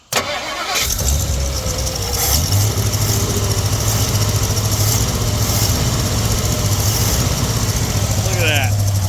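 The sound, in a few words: 1957 Ford Fairlane 500 Skyliner engine starting and idling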